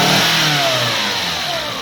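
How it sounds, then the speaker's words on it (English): A car engine revved at wide open throttle during a running compression test for misfire diagnosis, a loud, close, sustained rising roar that then slowly drops, with no talking. "Alright, wide open throttle."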